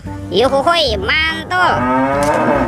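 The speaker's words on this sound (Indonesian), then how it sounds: "Ada hewan sapi mo." A toy cow gives a loud, close electronic moo, two drawn-out bellows with a rising-and-falling pitch, as a voice briefly exclaims alongside.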